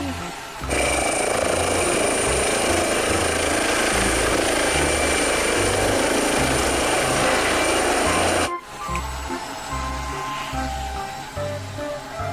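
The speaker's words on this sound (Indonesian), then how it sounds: "ada helikopter" An electronic toy helicopter sound effect whirs loudly and steadily with a high pitched tone for several seconds, then cuts to quieter rattling play sounds.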